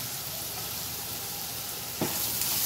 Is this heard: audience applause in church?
no